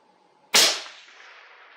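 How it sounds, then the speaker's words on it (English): A single rifle shot fired at a 500-yard target, a sharp loud crack that hits all at once and trails into a long fading echo across open ground, with a faint steady hum before it. "Let me shoot at 500 yards."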